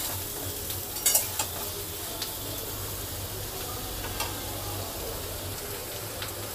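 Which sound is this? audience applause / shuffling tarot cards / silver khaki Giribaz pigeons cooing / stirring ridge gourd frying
stirring ridge gourd frying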